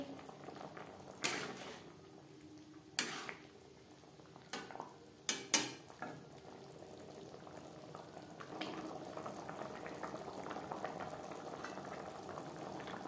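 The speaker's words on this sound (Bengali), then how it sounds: "গ্রেভি বেশ ভালো করে ফুটতে শুরু করে দিয়েছে" Egg curry gravy bubbling steadily in a pan, a soft continuous simmer with a few sharp clinks and pops near the start, close and fairly quiet, with no voices.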